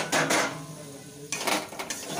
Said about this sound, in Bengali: ঢাকনাটা খুলে দিলাম।